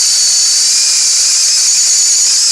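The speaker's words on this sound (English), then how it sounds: "it will be wise to hit it with the wire brush again" Wire brush scrubbing a 2006 Dodge Magnum 3.5 exhaust manifold, a loud, steady, harsh hiss that runs unbroken and close for the whole stretch.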